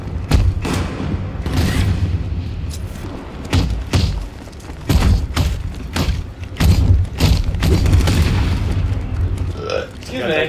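Heavy booming gunshots and thuds ring out in irregular bursts in the Batman Arkham video game, loud and punchy, mixed with voices talking over the action.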